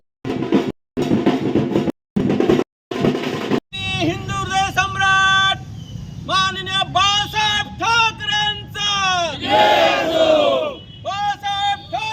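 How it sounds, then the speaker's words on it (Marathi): Shiv Sena workers at a victory celebration at Shivtirth in Shahapur chant loud, rhythmic slogans in chorus, clipped bursts at first, then sustained shouted calls from a close, energetic crowd. "यावेळी जोरदार घोषणाबाजी देखील करण्यात आली आहे"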